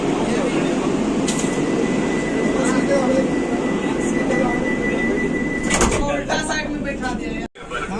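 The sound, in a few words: Vande Bharat train doors being locked before departure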